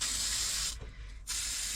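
A steady, close hiss of aerosol spray onto the battery terminals of a 5-ton 6x6 army dump truck runs almost continuously, broken by a brief half-second pause before spraying resumes.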